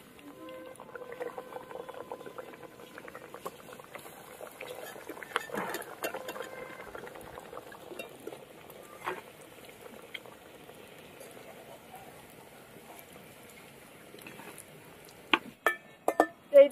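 Potato puris deep frying in oil, a soft continuous bubbling sizzle with occasional clinks and scrapes, ending in a few louder utensil knocks; moderately quiet and close.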